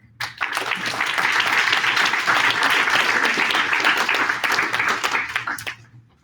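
Graduation-ceremony crowd applause for a coding bootcamp class, a fast swell into thick, steady clapping that holds loud for several seconds before tapering off abruptly near the end.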